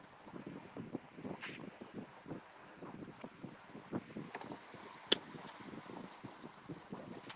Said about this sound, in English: Fight the wind.